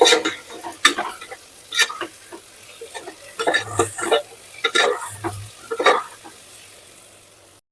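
Large skin-on potato pieces hit a hot pan for a khandeshi masala khichdi and get stirred, giving scattered scrapes and knocks of a spoon against the pan over a light sizzle, loud and close.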